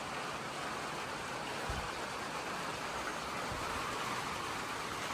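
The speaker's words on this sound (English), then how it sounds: "if you can hear the rain, just got in in time" Steady rain falls outside an Appalachian Trail shelter on Molly's Ridge, a dense, even hiss that holds at a constant level through the whole stretch, with a couple of faint low thumps and no talking.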